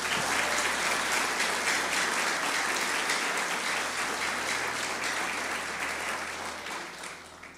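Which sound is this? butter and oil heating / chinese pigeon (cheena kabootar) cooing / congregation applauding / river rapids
congregation applauding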